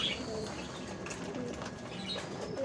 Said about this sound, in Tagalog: alaga kong kalapate